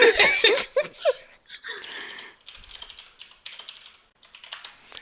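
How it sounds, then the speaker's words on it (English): Rapid, furious clicking on a computer keyboard in bursts, loud at first and then softer, with brief laughter near the start and a few short gaps. "Furious clicking intensifies."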